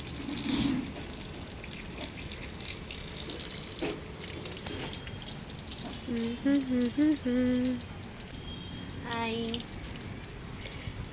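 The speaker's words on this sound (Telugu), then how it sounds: "చెట్లకు నీళ్ళు పోస్తున్నావు నవ్యా?" Water pouring onto garden plants outdoors makes a steady, soft splashing gush that runs for the whole stretch, with a few faint tonal chirps in the background.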